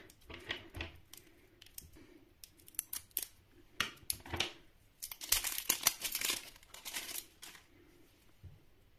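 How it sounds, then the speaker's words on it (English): Toy packaging is unwrapped and cut open in a string of crisp snips, crinkles and tearing bursts, busiest in the middle stretch, close and fairly loud with brief pauses between. "And this is even more packaging to get through."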